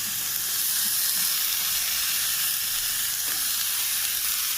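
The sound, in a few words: frying carrot, water chestnut and radish vegetables in a pan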